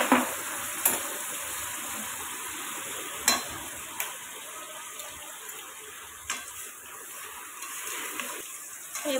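Spiced sea crab masala cooks in a pan, giving a constant close sizzle and bubbling hiss with occasional sharp spatters and stirring scrapes, no talking.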